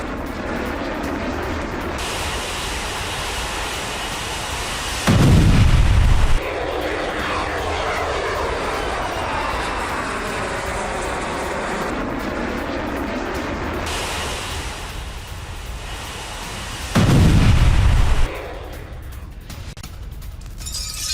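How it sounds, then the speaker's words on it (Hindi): A Patriot air defense system intercepts a Russian missile in the air: a sustained roaring rumble of missile engines runs throughout, broken by two heavy, deep blasts spaced several seconds apart. "पैट्रियट सिस्टम से रूसी मिसाइल को कैसे किया गया तबाह"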